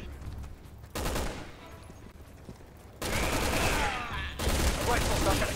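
Rifle fire in Resident Evil 6: dense, loud bursts of rattling shots in several spells, separated by quieter gaps of game ambience, with no talk.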